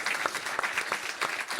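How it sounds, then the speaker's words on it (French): Brief, dense applause from a small group, steady clapping at moderate loudness with a few sharper claps poking through. "On va t'applaudir"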